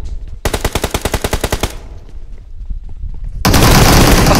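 Rapid bursts of automatic gunfire from the battle royale game BGMI, a loud rhythmic volley of about a dozen shots followed by a quieter gap and then a dense, sustained roar of noise.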